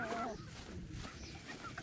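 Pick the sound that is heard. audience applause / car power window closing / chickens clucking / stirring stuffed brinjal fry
chickens clucking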